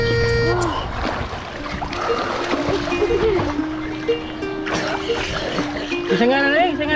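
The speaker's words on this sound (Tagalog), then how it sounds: "nabutan ko silang naliligo" Children bathing in a river splash and shout on a Sunday, with lively water splatter mixed with chatter, laughter and calls, a musical beat running underneath and a horn-like toot, loud and close throughout.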